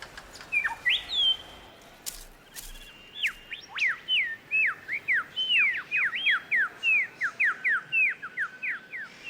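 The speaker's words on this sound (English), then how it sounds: "it doesn't stop the display of a very special bird. The superb lyrebird." A superb lyrebird sings in a drying forest, delivering a rapid series of loud, clear, sweeping whistles and chirps that repeat in a steady rhythm over quiet background.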